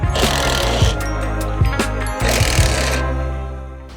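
A tool works loose the lower shock mount bolt on a Mazda Miata's front suspension, giving loud rapid mechanical rattling bursts up close that fade out toward the end.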